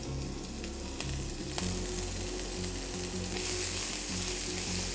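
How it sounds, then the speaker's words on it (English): Mustard seeds sizzle and crackle in hot oil, a steady close frying hiss with faint low hum beneath. "And once they start to sizzle"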